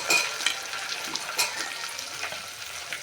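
Potatoes and onion being stirred in a hot tadka, with a close, crackling sizzle and uneven scraping bursts from the stirring, with no talk.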